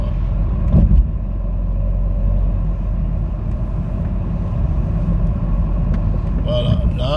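A car drives through the town of Lagny and slows down under braking, a steady low engine and road rumble filling the interior, with a brief thump near the start and a soft squeak at the end, no speech over it.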